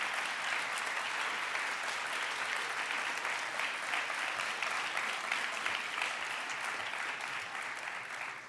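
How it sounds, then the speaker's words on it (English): An audience at an MLK Day keynote event applauds warmly, a dense, sustained wash of many hands clapping evenly for several seconds without a break. "thank you a great deal for that kind applause"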